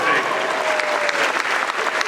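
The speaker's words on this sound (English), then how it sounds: "Applaud the lady as you put it on the stage." An audience at a Dragon Con panel applauds, a dense, loud burst of clapping that fills the whole moment, with a few voices faintly mixed in.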